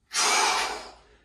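A single sharp, breathy inhale during a push press exercise, close and loud at onset, then tapering off over about a second.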